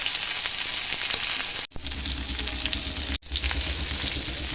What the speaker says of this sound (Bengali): দেখো কত সুন্দর হয়েছে যে হালকা হালকা করে ভাজা হচ্ছে